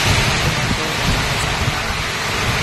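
Heavy typhoon rain pours down on houses in Cauayan City, Isabela, a dense, loud, unbroken roar of water with no pauses.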